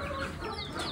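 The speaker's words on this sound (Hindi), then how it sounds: "देसी मुर्गे और मुर्गी जो है वो सेल कर रहे हैं" Desi chickens and roosters cluck together in a dense, continuous barnyard chorus, loud and close, with overlapping calls and no talking.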